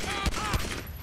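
Gunfire in the video game GTA V: two sharp, booming shots about a quarter-second apart, close and loud over a constant game background.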